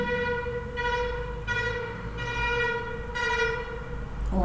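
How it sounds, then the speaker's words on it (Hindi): A train horn sounds in several long, loud blasts with steady pitch, repeating over a continuous low rumble of a passing train. Nobody speaks. "oh my God the horn, sorry I had to stop"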